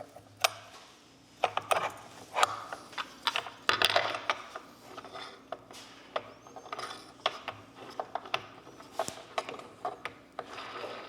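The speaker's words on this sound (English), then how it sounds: "I believe this should just thread right on there." Plastic clicks, ratcheting and rubbing as a Stihl trimmer head is threaded onto a string trimmer's shaft over a fitted plate with a locking tool in place, with irregular close taps and clatters scattered through the clip and no talking.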